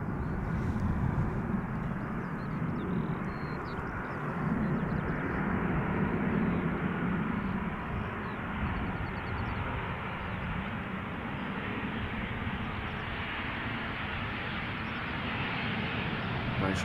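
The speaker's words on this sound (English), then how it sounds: "737 approaching now" A Boeing 737 at Schiphol Airport makes its landing approach, a steady low engine rumble and rushing airflow sustained throughout, moderately loud and fairly near, with a faint swell and ebb but no clear voices.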